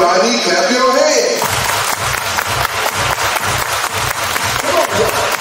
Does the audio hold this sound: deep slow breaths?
no